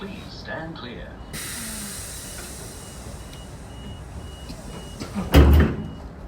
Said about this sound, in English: Doors closing. Please stand clear.